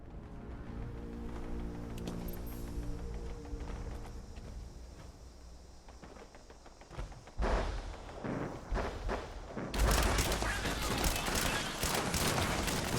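Gunfire from the video game Fallout 76 comes in dense rapid bursts later on, loud and close over a busy game soundscape with rumbling ambience beforehand.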